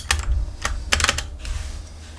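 Keys on a Royal Kludge RK68 mechanical keyboard clack in short, uneven bursts, several sharp taps close together, then a brief flurry, recorded up close.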